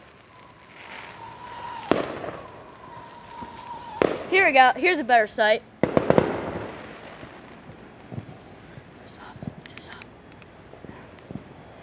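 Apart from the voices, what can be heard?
fireworks show exploding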